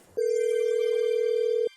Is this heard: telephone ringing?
yes